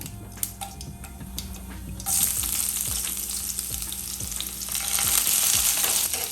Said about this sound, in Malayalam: നമ്മുടെ മുരിങ്ങയ്ക്കയും ഉള്ളിയും കൂടെയുള്ള കറിക്ക് നമ്മൾ കടുക് പൊട്ടിക്കുകയാണ്